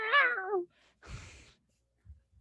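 A human voice imitates an upset panther cat, letting out one strained, wavering meow-like yowl, then a rougher hiss-like burst, followed by a few faint low thumps in near silence.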